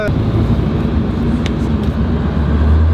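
A Ford Powerstroke diesel truck fitted with a CAT coolant filter drives along, its dense, low engine and road rumble holding steady and loud from start to finish.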